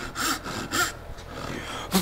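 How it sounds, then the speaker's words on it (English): A tenon saw cuts into a wooden lap joint, clearing out the waste with a few rhythmic push strokes close by, followed by a pause and one more short stroke. "Same tenon saw to go in there and clean this one out."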